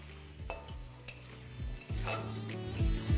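Cut potatoes and sweet potatoes frying in oil after a panch phoron tempering for niramish labra, with a steady close sizzle broken by repeated knocks and scrapes of a spatula against the pan, and no talk.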